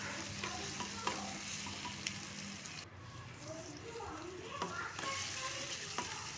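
Tomatoes frying in oil in a pan for a spinach and egg palya, giving a steady close sizzle with scattered scraping stir clicks throughout.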